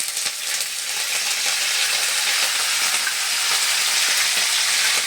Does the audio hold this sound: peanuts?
yes